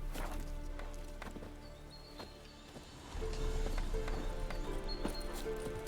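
Horse hooves clip-clopping at a steady trot in The Witcher 3, the even beats close and clear, growing louder and denser partway through as the pace picks up.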